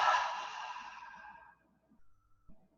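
A long open-mouthed exhale during a yoga breathing exercise, a single breathy sigh that fades out over about a second and a half, followed by faint quiet room sounds.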